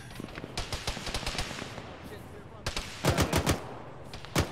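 Heavy .50 caliber machine gun fire from a bunker in a military shooter game comes as rapid rhythmic bursts of sharp reports, mid-distance, with a stronger cluster of thumping shots near the end.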